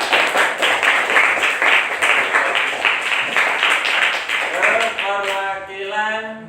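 Applause from a classroom group rewards a group 1 representative in an Islamic jurisprudence class, with several seconds of steady clapping that fades into a faint voice at the end.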